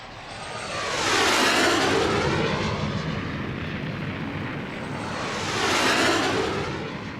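Vietnam War-era military aircraft roar past twice, each pass swelling loudly and fading into a broad rushing engine noise, with no voices.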